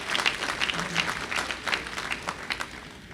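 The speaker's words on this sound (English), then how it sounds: "let's give him a round of applause because he's done a great job, Dr. O'Donnell" Audience applause at a university dedication ceremony, steady clapping from a crowd throughout, moderately loud with no talking over it.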